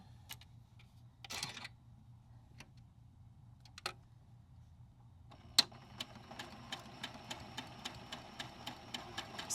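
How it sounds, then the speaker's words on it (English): A home sewing machine stitches quilt pieces along a marked line, running in a steady, rapid series of clicking needle strokes after a few separate handling clicks and rustles; close and moderately quiet. "Sewing right on the line."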